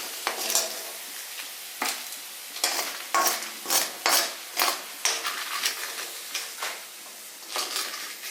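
Oil frying with a steady sizzle while a utensil scrapes and stirs in repeated strokes, close and fairly loud.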